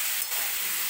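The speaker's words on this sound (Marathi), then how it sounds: "व्यवस्थित भाजी परतून घ्यायची" Spinach greens sautéing in a hot pan for a dry palak bhaji, a steady close hiss of steam and sizzle with no break.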